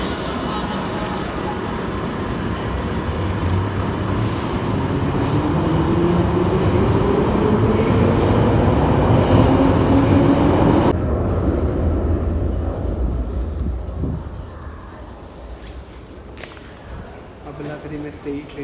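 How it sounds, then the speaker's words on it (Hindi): A London Underground train arrives and runs with a loud rising rumble and screech, then quiets sharply as it slows, while people talk nearby throughout. "ट्रेन आ गई है, अब इसमें चलते हैं।"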